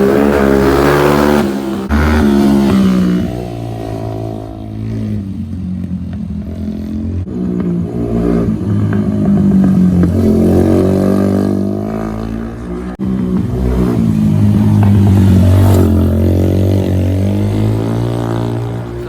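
A motorcycle engine revs and accelerates loudly, its pitch climbing and falling through repeated throttle bursts, close by with no talking.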